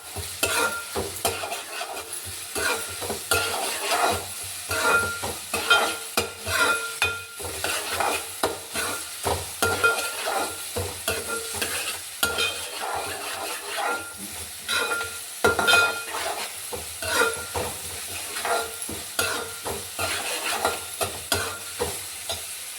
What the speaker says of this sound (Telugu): ఇగో ఉప్పు కూడా వేస్తున్నాను. ఉల్లిపాయ ముక్కలు బాగా మగ్గాలి.